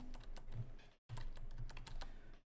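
Typing on a computer keyboard while writing an email, with quick close key clicks in two bursts separated by a brief pause.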